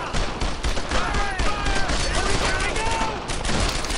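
Gunfire rattles through a World War II shooter game, Brothers In Arms: Earned In Blood, with bursts of rifle and machine-gun shots at mid distance under a steady battle din.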